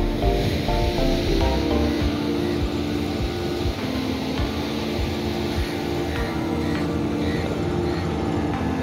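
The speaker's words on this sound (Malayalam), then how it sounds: "ചെറിയ വഞ്ചി കടലിൽ പോയിട്ട് തിരിച്ചു പോവുകയാണ്." Surf and sea waves wash steadily along the shore at Azhikode beach, with a small boat heading back out on the water; a continuous broad wash throughout, no talk.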